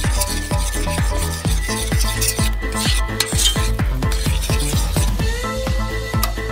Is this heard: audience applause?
no